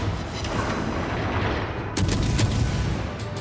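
Naval guns firing in World of Warships during a destroyer battle: a dense, rumbling wash of distant artillery booms, with a sharper, louder volley of shots landing about two seconds in.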